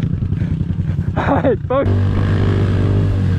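A pit bike engine runs and revs in a rough, continuous drone, loud and close, with someone talking over it and a sharper burst partway through.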